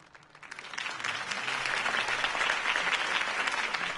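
A crowd at a campaign rally bursts into applause that swells from quiet to a steady, dense clapping roar, heard at a modest distance.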